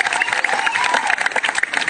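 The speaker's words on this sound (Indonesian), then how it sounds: "Tepuk tangan yang meriah." Audience clapping at a Balinese Calonarang performance at Pura Dalem Sila Pegat, quick dense applause with some crowd noise, a bright tone sounding over it.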